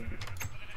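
A Minecraft sheep bleats in a short, wavering series of close, nasal cries heard on its own.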